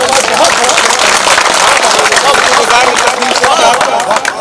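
An audience applauds loudly and continuously at a poetry recital, a dense roar of clapping and crowd noise that stays at full strength throughout.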